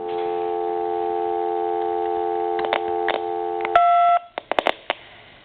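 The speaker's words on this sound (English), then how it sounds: "Now I'm going to short these 2 pins out, and I'm going to dial a 2." AT&T 5.8 MHz cordless phone handset on speakerphone, a steady dial tone broken by short beeps, then a distinct key tone and a few clicking blips.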